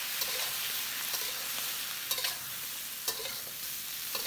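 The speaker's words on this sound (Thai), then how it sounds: "แล้วก็ให้เราผัดคลุกเคล้าให้เข้ากันนะครับ" Sliced cucumber with garlic and a mixed sauce is stirred in a hot pan for a Thai stir-fried cucumber and egg dish, giving a steady close sizzle with a few sharp scraping stirs and no talking.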